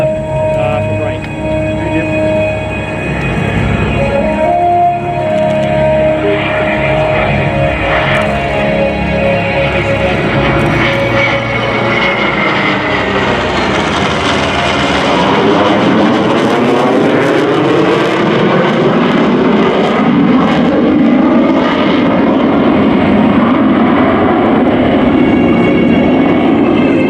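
A US Navy legacy flight of aircraft makes a tail-on pass at the 2021 New York International Air Show, a loud sustained engine roar that swells and shifts in pitch as the planes sweep past overhead.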